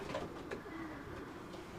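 Racing pigeons coo softly inside a loft, a low steady murmur of several birds with a brief louder call partway through, heard from moderately close with no speech.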